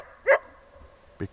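Dog barking outdoors near a fell lake, two short sharp barks spaced about a second apart over a quiet background with faint low rumble.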